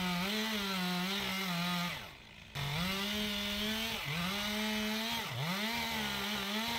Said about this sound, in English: my chainsaw gets pinched just a little bit in that big trunk